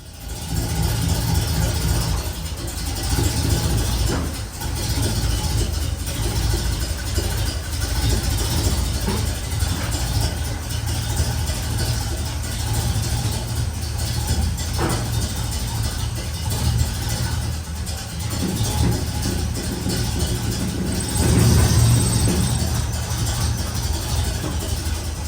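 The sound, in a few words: car engine started and running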